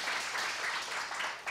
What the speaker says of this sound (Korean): 한번 좀 큰 박수로 좀 격려해 주시기를 바랍니다.